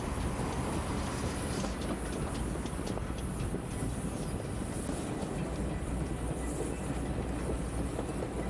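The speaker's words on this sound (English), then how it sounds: "The loco is almost silent on a bunker forward trip, which is pretty much downhill" A steam train runs downhill with the locomotive bunker first, rolling along steadily with a constant rumble and faint rhythmic clatter of wheels on rails, no engine chuffing, and no voices.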